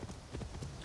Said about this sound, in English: now look, I can get on my horse